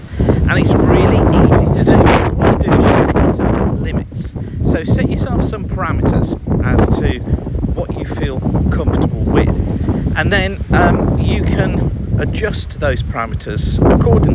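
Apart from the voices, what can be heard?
fresh breeze wind blowing through trees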